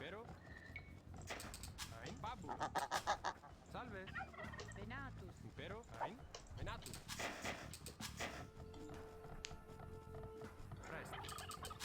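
Fowl sounds from an Age of Empires video game on the Arabia map, with gobbling and clucking calls that come in bursts over game effects and clicks, while a voice talks over much of it.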